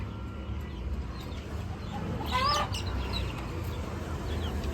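Kadaknath and village chickens with small chicks cluck and cheep on a farm. A soft, steady background of clucking is broken by a brief high chick peep midway, with no talking.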